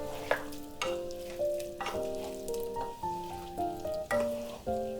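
Tofu and vegetable stir-fry tossed in a hot pan with toasted sesame seeds, pepper and sesame oil, soft sizzling under repeated scraping stirs and clinks of a utensil against the pan, fairly quiet and close.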